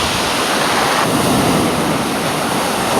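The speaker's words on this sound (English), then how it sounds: "there's some huge waves" Large sea waves breaking on Brighton beach, a continuous loud rushing roar of surf close by with no voices.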